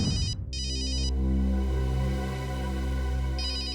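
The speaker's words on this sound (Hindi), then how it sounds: "ये अखिल का फोन है, उठाइए।" A phone rings for an incoming call on a TV crime drama set: bright electronic ringtone bursts start and stop, then return near the end, over a low steady musical score, with no talking.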